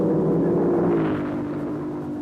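Racing cars roar past on an international circuit, a sustained loud engine drone with harmonic whine that swells and slowly fades, heard alone without talk.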